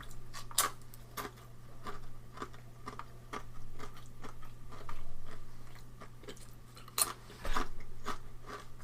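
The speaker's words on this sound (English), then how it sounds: "We're also munching on potato chips." Potato chips being munched close to the microphone at a recording table, a series of sharp crisp crunches spaced irregularly over a low steady hum.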